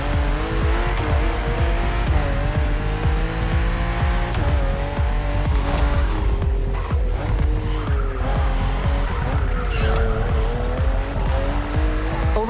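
BMW M2 and M4 race cars in The Crew Motorfest roar continuously along a narrow road full of sharp bends, with engine revs rising and falling and repeated tire squeals and skids throughout.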